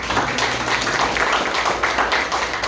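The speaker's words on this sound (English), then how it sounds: "Y'all give him a hand clap for his service." Audience applause at a Tea Party gathering in Cypress, Texas, honoring a retired sheriff's department lieutenant, a dense steady wash of many hands clapping throughout, moderately loud and fairly close.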